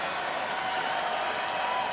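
Steady crowd noise at a Houston versus Milwaukee baseball game in 2012, a broad continuous roar with scattered applause and cheering, fairly loud and even throughout with no clear peaks.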